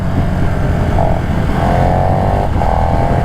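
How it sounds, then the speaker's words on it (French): A KTM Super Duke 1290 Evo twin-cylinder motorcycle engine idles and rumbles steadily, rising in a few short revs with a buzzing twin-cylinder tone, close and loud. "Le bruit KTM comme ça, c'est quand même très particulier"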